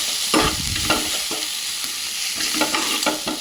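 Cinnamon, cloves, tomato and garlic sautéing in a pan for paneer butter masala, a loud crackling fry cut by a series of brisk spatula scrapes at an uneven rhythm, with no voices.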